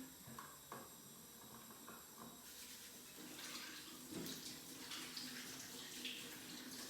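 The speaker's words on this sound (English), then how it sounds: "So again, just want to wash my hands." Water from a tap runs steadily while hands are washed before making chocolate fondants, a soft continuous hiss with some splashing and louder flow in the second half.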